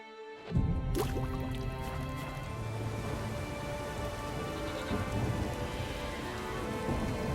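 Heavy rain pours steadily in The Witcher 3: Wild Hunt, a dense, continuous downpour with dripping and a low rumble beneath it, loud and alone after a brief quiet start.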